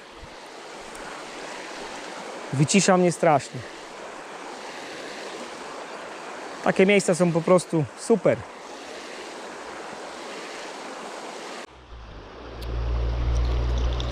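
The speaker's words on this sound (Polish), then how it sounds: "Po prostu te fale, ta tama tutaj" Steady broadband roar of waves rushing over a dam, constant and close, with someone talking briefly twice over the water noise.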